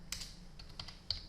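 Quick keystrokes on a computer keyboard, a few faint, close clicks in an irregular rhythm over a quiet background.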